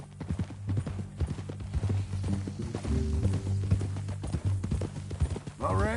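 Horse hooves clip-clop steadily in Red Dead Redemption II, a continuous near rhythm of hoofbeats with voices talking over them throughout.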